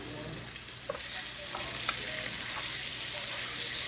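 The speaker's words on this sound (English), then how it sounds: "the chicken is sizzling away from that olive oil I put on there earlier" Loud, continuous sizzling hiss of chicken frying in olive oil, with occasional small pops and crackles close by.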